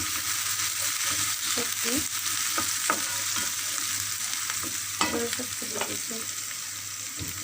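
Ground spices sautéing in a hot pan give a steady sizzle, broken by repeated scraping and stirring knocks from a spoon close by, with no talk.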